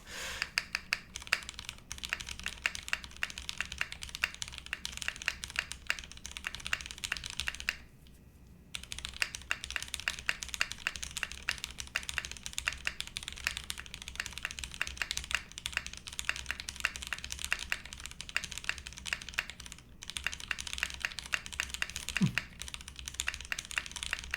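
Fingers type steadily on a newly built SingaKBD x Monokei Jaguar V2 mechanical keyboard with a PBT spacebar, a close, fast clatter of key presses with one short pause partway through and a brief thump near the end.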